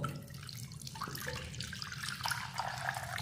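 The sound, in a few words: water poured into clay pot with milk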